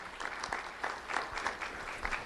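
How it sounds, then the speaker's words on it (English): Steady applause from a crowd, continuous clapping with slight swells, fairly close and filling the whole moment without speech. "Round of applause, everyone, for Janaya Funes."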